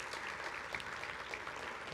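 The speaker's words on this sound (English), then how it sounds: "Give them a big old hand clap of" A church congregation at a Father's Day service claps hands together, a steady, even patter of applause that fills the room with no voices over it.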